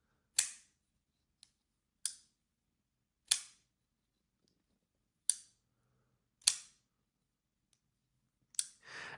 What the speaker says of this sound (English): when you open this knife, it has this really great ting noise and opens like a bank vault